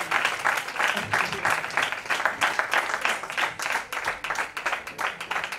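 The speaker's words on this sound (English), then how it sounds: "Can we have a huge round of applause and welcome our third judge for this event" Sustained applause from a large audience at a college annual festival, a dense wash of clapping that holds steady throughout at moderate loudness with faint crowd noise mixed in.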